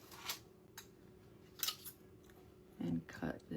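Scissors snipping through card paper during a card-making class, a few quick close cuts in separate bursts over a quiet room hum.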